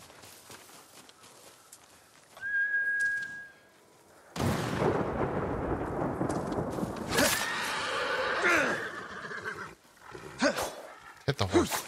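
In the samurai video game Ghost of Tsushima, a horse lets out a short, sharp whinny. Clattering hoofbeats and loud action noise follow, while someone talks over the game.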